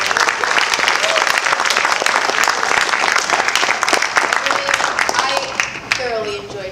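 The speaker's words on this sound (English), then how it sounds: "So I want to give a round of applause for everyone who presented." Audience applause for presenters at an event, a dense, steady wash of clapping that stays loud for several seconds and thins slightly toward the end, with some voices and cheers mixed in.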